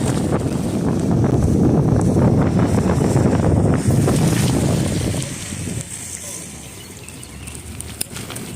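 Wind blowing outdoors on a cold, breezy storm chase, roaring hard against the microphone for about five seconds before easing to a lighter steady rush.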